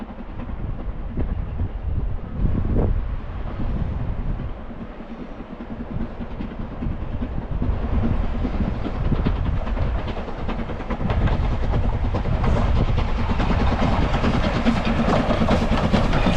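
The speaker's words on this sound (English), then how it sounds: "There's a steam train coming" Steam train passing through a valley, a loud continuous rumble with rhythmic rail clatter that swells and brightens as it approaches, heard from outdoors with no voices.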